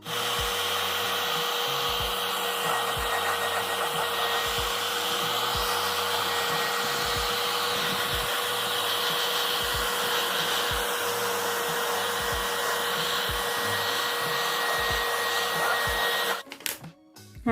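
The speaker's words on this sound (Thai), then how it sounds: "ลอง เอา ไดเป่า เพราะอย่าง 2 ตัวนี้จะลบได้ด้วยความร้อนนะ" A hair dryer blows steadily on dark muslin fabric to heat away heat-erasable pen marks for embroidery, a loud, constant close-up whir with a faint pulsing undertone that cuts off abruptly near the end, with no talking.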